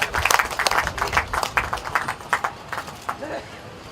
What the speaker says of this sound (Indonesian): Boleh tepuk tangan yang meriah, tidak usah ragu-ragu.